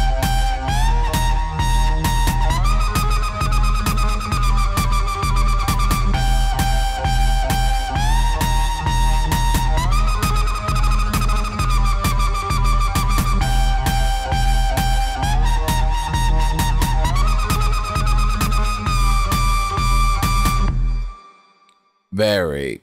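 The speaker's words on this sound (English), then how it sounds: "That is our helicopter bass sound." A helicopter-style wobble bass from the Sugar Bytes Cyclop synth with reverb plays a loud, steady pulsing pattern with stepping notes for about twenty seconds, then cuts off into a brief reverb tail.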